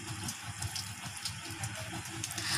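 Lime water being poured onto a plant, a steady close splashing and trickling stream of water running continuously without pause, with no voices.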